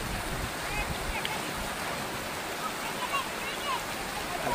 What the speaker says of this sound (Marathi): हा सुरुवातीचा पहिला धबधबा आहे